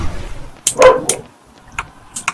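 A pet dog in a home barks in a few short, sharp bursts, close and fairly loud, separated by quiet gaps.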